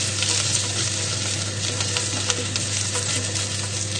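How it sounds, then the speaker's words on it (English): Potatoes swirled around a hot pan in melting butter, giving a steady, close sizzle with soft stirring scrapes throughout and no voices. "So just swirling them around the pan just till the butter melts."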